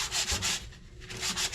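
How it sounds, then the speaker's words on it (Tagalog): Sandpaper rubs over a small bonsai's wood in quick back-and-forth strokes, about six close, raspy passes with a short pause in the middle, and no voices. "Ang iyong liha ko, sandpaper ko, sana yung 200 o 100 na liha"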